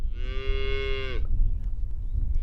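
A black-and-white speckled Texas Longhorn cow with big curly horns gives a single loud, close moo lasting about a second, with rich harmonic tone, then stops, leaving quiet outdoor farm ambience.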